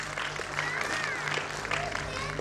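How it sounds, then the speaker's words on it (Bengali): Audience applause at a music school prize-giving: a steady wash of clapping from a crowd, with a voice talking over it. "ওর জন্য একবার জোরে করতালি চেয়ে নেব।"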